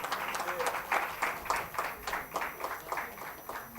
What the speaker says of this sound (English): Give a big round of applause for Sandeep.